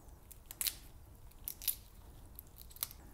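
Carabinero prawn shell being peeled by hand, giving a few sharp, close crackling snaps at irregular intervals over a quiet background.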